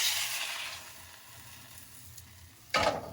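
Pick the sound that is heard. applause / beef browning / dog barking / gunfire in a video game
beef browning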